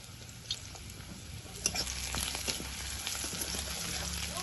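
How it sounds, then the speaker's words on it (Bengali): Fennel seeds and spices sizzle in hot oil in a wok, a steady broadband frying hiss with brief stirring clicks and scrapes, fairly close and moderately loud. "এধারে কড়াইতে তেল দিয়ে দেব মৌরি"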